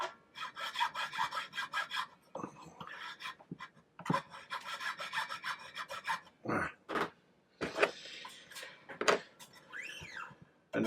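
A triangle file rasping a hard PVC guitar nut on an Epiphone Les Paul Special, heard as bursts of close, gritty strokes with short pauses between them and a few squeaky scrapes, with no talking.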